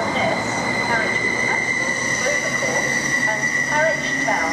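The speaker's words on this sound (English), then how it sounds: "745002 has made another appearance on another test run" A Greater Anglia Class 745 electric train, unit 745002, on a test run. It rolls past with a loud, steady rumble, high-pitched wheel squeal and electric whine, and brief voices are heard underneath.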